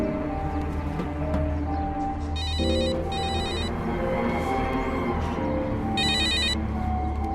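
A telephone bell rings in two short bursts, first near the middle and then again toward the end, loud and clear over a steady bed of background film music with no one talking.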